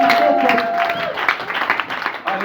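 Sunday church congregation applauding to acclaim the Lord, a loud burst of clapping mixed with voices and a sustained tone that fades early, lively and close.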